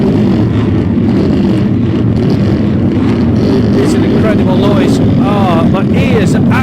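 Pre-TT Classic racing motorcycles rumbling loudly and continuously at close range, a dense mechanical roar with rising revs near the end.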